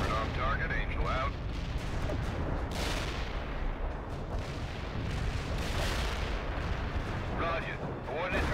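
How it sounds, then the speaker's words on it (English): A heavy artillery barrage in the strategy game World in Conflict pounds steadily, a continuous roar of booming blasts and rumbling detonations, with brief radio chatter at the start and end. "Heavy artillery barrage inbound."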